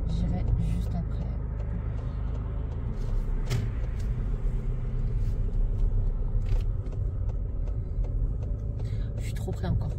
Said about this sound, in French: j'ai une voiture qui arrive, j'attends qu'elle me dépasse